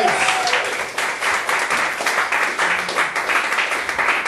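Steady applause from a crowd, dense clapping sustained throughout with a few scattered whoops, fairly close and loud.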